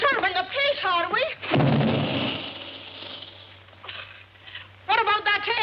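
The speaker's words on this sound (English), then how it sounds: "What about that air gun of yours booming all day and night?" Deep booming blasts from an air gun, as in a 1941 film scene, roll out as a loud burst in the middle of the clip, with talking before and after.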